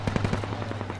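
Rapid automatic gunfire from the military shooter Squad in an urban Fallujah battle: a quick burst of about a dozen loud, close shots over a steady low hum.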